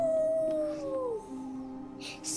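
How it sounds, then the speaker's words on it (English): Wolves howl in the VR game Wolves in the Walls, a long clear gliding howl that falls in pitch and fades, followed by softer overlapping calls and a brief breathy burst near the end, with no talking. "Then they would circle in, calling out to each other with their howls."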